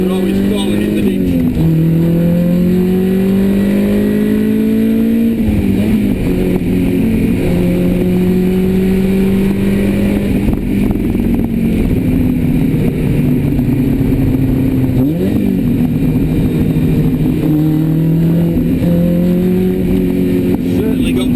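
A GTM Rossa car with a 2.0 Type R VTEC engine accelerates on a road, its engine note rising and falling through repeated revs with gear changes, loud and close inside the car, a voice talking over it.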